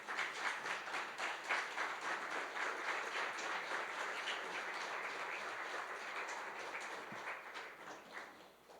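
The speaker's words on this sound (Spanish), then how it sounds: "Dale un aplauso al Señor." A church congregation claps in steady, sustained applause, a dense wash of hands heard from a moderate distance, slowly thinning toward the end.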